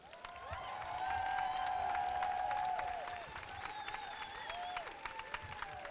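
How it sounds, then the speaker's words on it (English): A live audience at a mediumship demonstration cheers and claps loudly, a dense sustained roar of applause that swells over the first seconds, then eases into scattered claps and whoops. "I want you to yell, scream, clap, stamp your feet, and let's lift the roof off this place"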